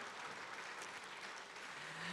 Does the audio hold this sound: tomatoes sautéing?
no